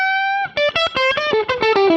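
Distorted tone from a vintage Fender Telecaster electric guitar with a low-output bridge pickup: a sustained held note, then a quick run of rhythmic picked notes and chords, loud and close, with no talking.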